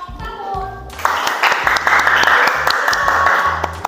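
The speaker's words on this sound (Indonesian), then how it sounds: "kita beri applause untuk kelompok" Classroom applause breaks out for a presenting student group, a burst of many hands clapping together for a few seconds after brief talk.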